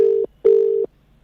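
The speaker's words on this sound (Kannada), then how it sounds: "ನಾನು ಫೋನ್ ಕಟ್ ಮಾಡ್ತೀನಿ" A phone call hang-up tone: two loud, steady electronic beeps, the first short and the second longer, separated by a brief gap.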